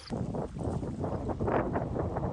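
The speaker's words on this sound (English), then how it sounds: "It's getting windy." Steady wind rushes and buffets against the microphone outdoors on a river during a kayak trip, a continuous broadband roar with gusty swells, no voices.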